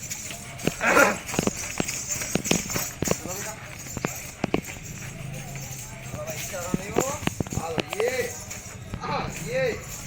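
Horse hooves clip-clop in an uneven rhythm on hard ground at a horse stud farm, with people talking and calling out nearby over the steps.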